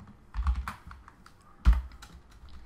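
Computer keyboard typing while entering code in a programming lesson, a few soft key taps with two louder bursts of keystrokes, close and quiet, no voices.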